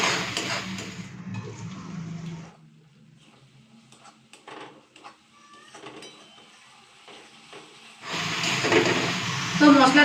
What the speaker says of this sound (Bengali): তো এখন 2-4 মিনিট হাতে সময় নিয়ে মশলাটা ভালো মতো করে কষবো